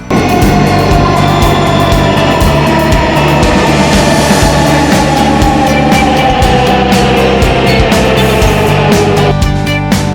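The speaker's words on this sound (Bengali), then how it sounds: "অল্প কিছুক্ষণ দাঁড়ানোর পরেই চলে আসলো মেট্রো রেল" A Dhaka metro rail train rolls into an elevated station with a loud, steady mechanical whine and rumble, a faint rhythmic clatter running beneath, fading slightly toward the end.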